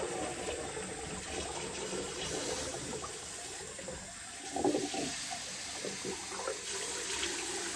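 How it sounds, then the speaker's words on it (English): Cold tap water running and splashing into a sink as a face is rinsed after a shave, a continuous close wash of water with brief splashes partway through. "Rinse off with some cold water."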